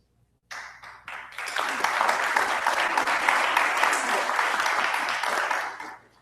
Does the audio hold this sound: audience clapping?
yes